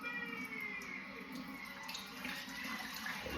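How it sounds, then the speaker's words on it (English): Soaking water being drained off a corned beef in a kitchen, a soft continuous pouring and gurgling wash that runs steadily throughout, quiet and with no talking over it. "I'm gonna drain this water out of here"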